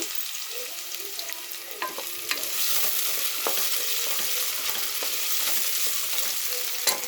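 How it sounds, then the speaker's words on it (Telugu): Onions fry and get stirred in a pan while cooking amaranth greens with moong dal. A steady close sizzle runs throughout, with occasional scraping and clicking from the stirring and no voices. "ఇప్పుడు ఆనియన్స్ వేసుకుందాం. కలుపుకుందాం."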